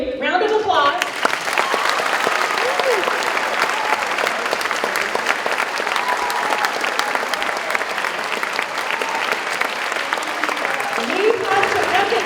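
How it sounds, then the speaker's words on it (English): Loud, sustained audience applause in a school setting for the CTE director, dense clapping that fills the room, with brief voices at the start and near the end. "Round of applause."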